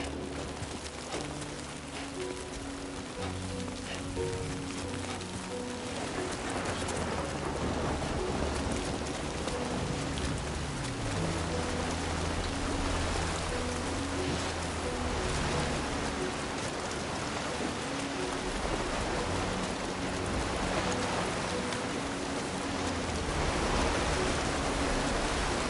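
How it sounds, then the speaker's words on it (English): Heavy rain pours down in Death Stranding 2, a thick, constant hiss with low rumbling tones shifting underneath, sustained and unbroken for the whole stretch. "this rain's getting wild out here."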